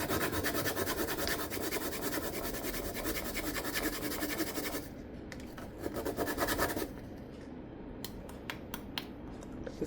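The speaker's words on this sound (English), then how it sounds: "I want to grate the nutmeg in the dry ingredient." A whole nutmeg is grated for cupcake batter with a fast, continuous scratchy rasp close to the listener, then a pause followed by a few scattered scrapes. No talk.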